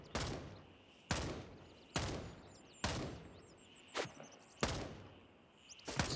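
Gray Zone Warfare gunfire rings out in six or seven sharp, separate shots at roughly one-second intervals, each with a crisp crack and a short echoing tail, moderately distant and with no voices over them.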